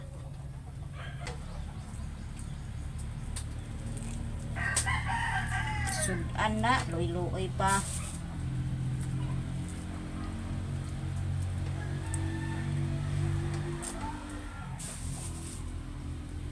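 Chickens cluck and a rooster crows outdoors near the sea, with a long crowing call in the middle and steady background noise while a person speaks briefly.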